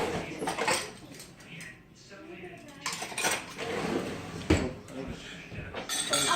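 Metal utensils and measuring cups clatter and clink in a home kitchen while someone rummages through a drawer, with scattered close rattles and a voice talking over them.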